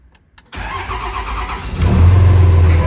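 A Cummins diesel pickup truck converted from a G56 manual to an automatic cranks briefly, then fires and catches with a loud, rough rumble that deepens and grows heavier as it settles into a running idle.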